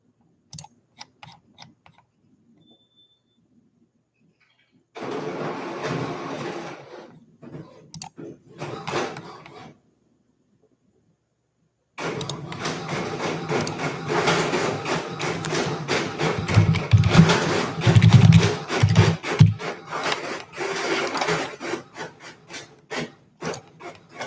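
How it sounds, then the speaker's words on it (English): A printer runs off a property profile, with two stretches of busy rasping and clicking mechanism noise separated by quiet gaps, close and fairly loud. "So now I'm printing the the property profile."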